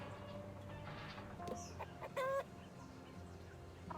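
Chickens cluck in the video game Egging On, short clucks over a steady game background, with a brief louder squawk near the middle.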